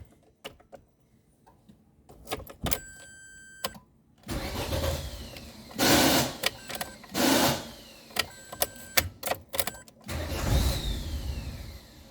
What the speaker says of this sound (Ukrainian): Ну, Насос жужжит. Жужжит, да?